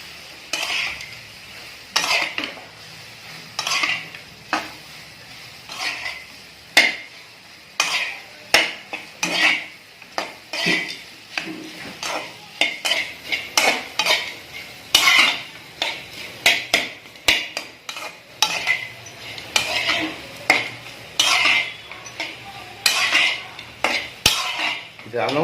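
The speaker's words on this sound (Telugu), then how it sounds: "ఇలా తిప్పుతూనే ఉండండి" Popcorn egg burji is stirred in a pan, a spoon clanking and scraping against the metal in a quick repeated rhythm over a soft background sizzle.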